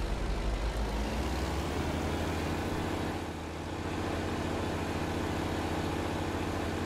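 Western Star truck in American Truck Simulator driving along, a steady low engine drone with constant rumble and road noise throughout, fairly loud and unbroken, with a brief slight dip midway.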